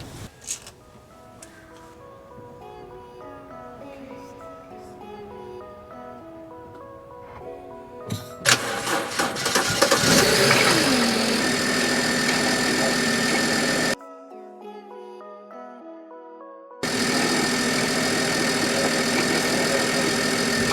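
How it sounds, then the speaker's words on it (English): A BMW E92 325i engine turns over and catches, then settles into a steady, smooth idle that runs loud and close, with a brief drop-out partway through. "let's start the car and see what happens"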